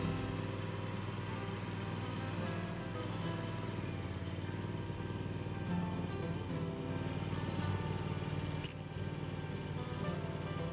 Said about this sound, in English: With the weights on the handle, a separate area is diamond ground.